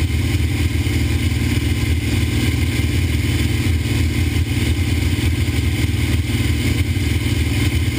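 A P-51 Mustang aircraft engine in flight, accelerating toward 300 knots for a loop, roars in a loud, continuous, throbbing drone from up close, steady throughout with no voices.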